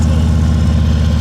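A motorcycle idles close by with a steady, loud, low rumbling drone that holds even throughout, with no revving.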